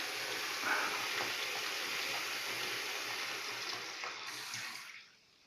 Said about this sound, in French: Donc je vais couper l'eau